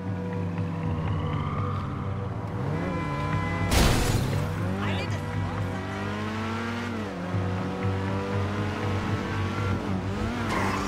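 A car in a chase in GTA Online, its engine revving and shifting pitch up and down over a steady drone, with a sudden loud crash or burst partway through and faint voices underneath.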